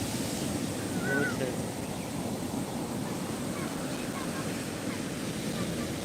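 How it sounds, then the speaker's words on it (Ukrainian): Huge storm waves roll and crash along the sea coast at Odesa, a continuous loud roar of surf mixed with heavy wind buffeting the microphone throughout. "Дивіться, які величезні хвилі"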